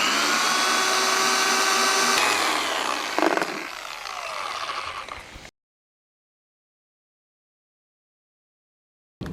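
A Rupes Bigfoot Mark III car polisher runs on its lowest speed setting with a loud, steady motor whine and hum that shifts partway through, then cuts out abruptly into silence.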